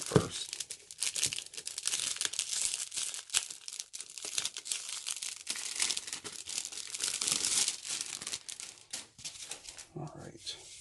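Plastic wrap being torn and crinkled off a deluxe Dice Settlers board game box, a long run of close crackling and ripping with a pause near the end.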